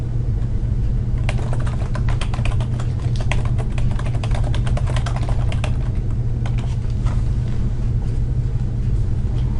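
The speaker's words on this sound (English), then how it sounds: "finish this sentence by typing" Steady, rapid clatter of keys being typed on a computer keyboard, continuous over a low background rumble, with no talking.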